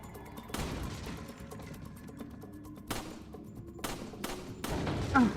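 Gunshots in the Resident Evil 4 video game: several separate sharp shots spaced a second or so apart, fairly quiet over low game ambience.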